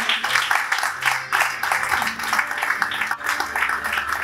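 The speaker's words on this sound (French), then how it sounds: "Et ça s'applaudit, madame, messieurs." Applause from the audience at the Ponton Awards ceremony in Pointe-Noire, a steady patter of many hands clapping throughout, with a faint voice or background murmur underneath.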